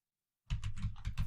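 Rapid keystrokes on a computer keyboard start abruptly after a moment of silence, a quick close run of clicks and taps at a steady pace.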